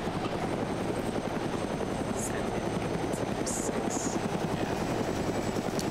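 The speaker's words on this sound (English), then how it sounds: "That aircraft's friendly, right?" Video game helicopter flying overhead, a loud, continuous rapid rotor thump with engine whine filling the scene, with a few brief high electronic chirps mixed in.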